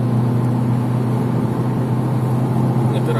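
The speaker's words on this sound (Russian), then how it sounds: "Сейчас даем ускорение." A steady, loud engine drone heard from inside a Chery Tiggo 2 crossover as it accelerates, a car with reported gear-shifting problems; the hum stays even with no clear shift break.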